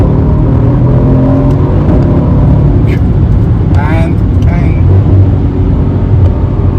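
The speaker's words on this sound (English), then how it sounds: "listen to that sound. Stock exhaust." A Mercedes C63 AMG engine rumbles deep and steady through a stock exhaust, close and loud, on country lanes in Poland, while someone speaks briefly over it.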